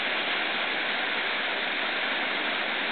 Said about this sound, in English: I heard this little waterfall here and thought I'd drop down and take a look at it.